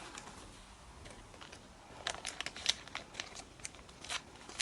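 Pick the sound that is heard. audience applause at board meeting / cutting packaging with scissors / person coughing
cutting packaging with scissors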